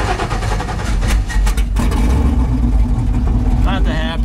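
A 1980 Chevy K10 truck with open headers turns over and fires, a loud, close, rough engine rumble with a voice speaking over it.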